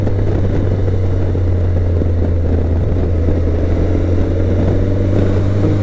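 A BMW K1100LT motorcycle engine pulling steadily in fifth gear on the road, a loud, continuous hum with a strong low drone and wind rush, unbroken and close throughout.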